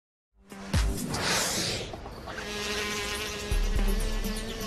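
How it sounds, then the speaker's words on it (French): A flying insect, a bee, buzzes steadily and close by for several seconds, a continuous droning whine that shifts slightly as it moves. "Elle est où cette abeille ? Tu l'as vue, toi ?"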